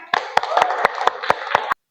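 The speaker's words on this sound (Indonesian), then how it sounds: "Tepuk tangan dong buat temennya." Classroom students clap for a classmate in a brisk, even rhythm of about eight sharp, close claps with a murmur of voices underneath, then stop abruptly.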